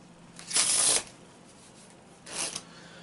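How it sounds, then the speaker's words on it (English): A deck of playing cards is pushed together in a faro shuffle weave, making two soft brushing riffle sounds, the first louder and longer, the second briefer, heard close with no talk. "So you start the weave by sliding the cards together, and then you slide it back and forth"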